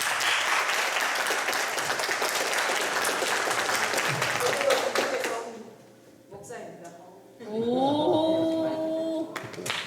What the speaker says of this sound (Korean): 박수로 우리 환영합니다.